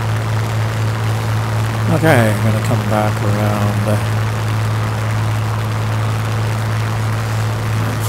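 A World War II fighter plane's engine in Microsoft Flight Simulator 2020, flying around Blackpool, holds a steady, loud, low drone through the whole stretch while someone talks over it.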